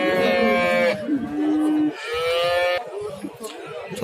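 Cows moo at the Özgön livestock market in Kyrgyzstan, with two long, loud harmonic calls separated by a pause and a third starting near the end, set against a busy market murmur.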